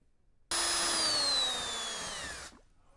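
A power drill spins up while mixing Fusion Flow epoxy resin for a countertop, a sudden close whine that holds for about two seconds, slowly drops in pitch, then cuts off.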